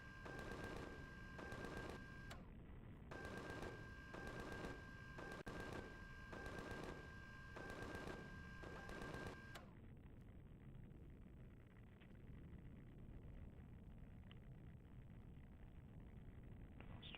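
A gun turret fires in a video game in long, rapid automatic bursts separated by short gaps, loud and alone, before giving way to a steadier rumbling background.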